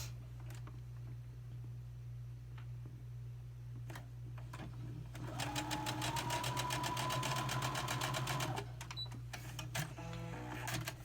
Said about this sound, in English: we're going to stitch it down